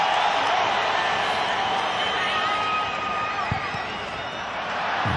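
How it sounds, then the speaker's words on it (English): A football stadium crowd at PSG vs Real Madrid in the Club World Cup roars and cheers steadily, a dense, loud wash of voices that holds for the whole stretch with no break. "The crowd are loving it."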